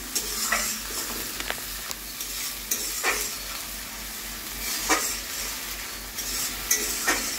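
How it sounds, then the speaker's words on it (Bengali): An egg dish stirred in a pan over high gas: a soft, steady sizzle broken by repeated scraping strokes of the spoon, close by and with no voices. "গ্যাসটা জোরে দিয়ে ভালো করে নাড়তে থাকবো, নেড়ে নেড়ে নেড়ে নেড়ে।"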